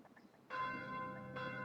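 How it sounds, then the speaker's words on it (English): A church bell in Fire Emblem Echoes: Shadows of Valentia clangs twice, each resonant strike ringing on with a sustained metallic hum that fills the space between hits. "why are they clanging that infernal bell?"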